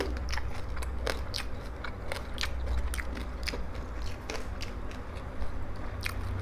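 Crispy deep-fried pork being bitten and chewed close up, a run of sharp crunchy crackles and chewing sounds with no talk over them.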